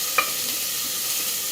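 Chopped onions and curry leaves sautéing in a pan for a potato side dish, giving a steady, close sizzle with a brief stir or clink near the start and no talk.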